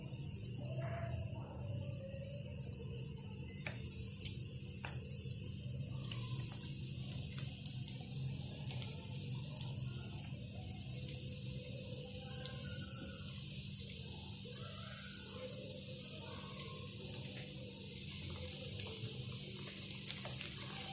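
Lebanese kebabs coated in egg and breadcrumbs fry in hot oil, giving a continuous close hiss with faint scattered crackles that holds steady throughout.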